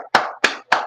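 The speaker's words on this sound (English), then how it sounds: "And one more time, man, round of applause for our guys, Money, T, Nero, and Big Sosa." Three sharp, close hand claps in an even rhythm, each ringing briefly, as a round of applause for rap podcast guests on a live news show.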